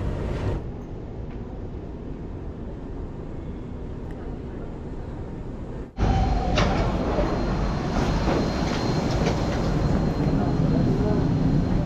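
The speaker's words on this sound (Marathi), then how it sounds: "हे डाऊनटाऊनचं मेट्रो स्टेशन आहे" Inside the Downtown MRT metro station in Singapore, a steady rumble and hum fills the space. It grows suddenly louder about halfway through, as if a train is arriving or moving through.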